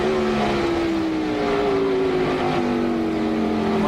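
NASCAR stock cars roar through a restart in the 2003 Subway 500, a dense continuous engine drone with rising pitch lines as the field accelerates, loud and steady without talk.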